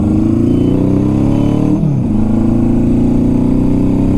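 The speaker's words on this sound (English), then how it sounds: "this bike isn't running on all its cylinders effectively. It's slightly missing on one cylinder" A Honda CB750 motorcycle engine idles and revs with an uneven, slightly stumbling beat from missing on one cylinder, loud and close, with a brief dip in pitch midway before settling back to a steady run.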